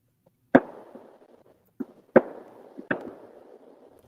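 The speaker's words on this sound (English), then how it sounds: "See, you get fireworks." New Year's Eve fireworks burst in the distance, four sharp booms at uneven intervals, each trailing off in a rumbling echo, against an otherwise quiet night.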